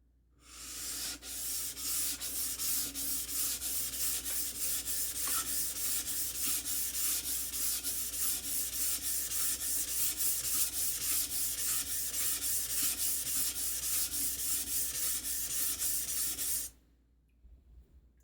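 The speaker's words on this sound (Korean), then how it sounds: "한 번만 더 갈고 그 다음 5층번으로 넘어가도록 하겠습니다" A shoe knife blade is sharpened on a stone in steady, rapid back-and-forth strokes, a close, continuous rasping scrape lasting about sixteen seconds before stopping abruptly.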